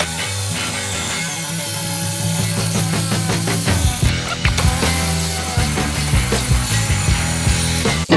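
A hand saw cuts down a metal U-channel with loud, close, rhythmic rasping strokes that continue steadily, broken by a brief clatter midway.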